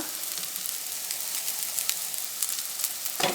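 Spices such as chicken masala powder, turmeric and garam masala sizzle steadily in a hot pan for a Malabar egg box filling, a soft continuous frying hiss close by with a faint stir near the end.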